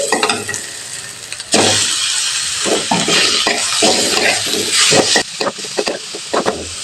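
Chicken frying in ghee in a pan over a low to medium flame, giving a steady sizzle that jumps louder as the pieces go in, with scraping and stirring clicks scattered throughout.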